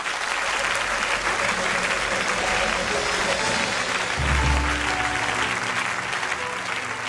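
A church congregation applauding at a service, a dense, sustained wash of clapping from many people that continues throughout, with some voices and a low rumble underneath.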